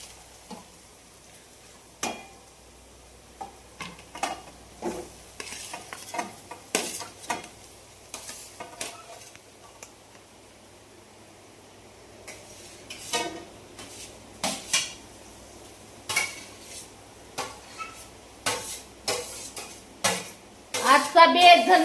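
Onion frying in a pan is stirred with intermittent metallic clanks and scrapes of utensil against the pan over a faint sizzle, the strokes coming in irregular bursts and quickening toward the end, with occasional voices nearby.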